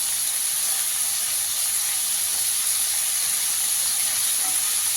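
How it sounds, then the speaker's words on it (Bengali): Potatoes frying in a pan for jhinge aloo posto give a steady, even hiss and sizzle throughout, bright and continuous, with no voices. "আলুটা একটু লাল করে ভেজে নেব।"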